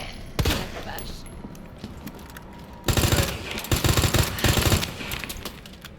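Gunfire from a weapon in Resident Evil 2 Remake rings out in short bursts, a single shot early and then several rapid, loud volleys of shots close together.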